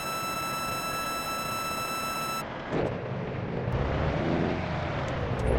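Truck engine in Grand Truck Simulator 2 rumbles steadily and swells toward the end, after a stretch of steady electronic tones at the start; no voices.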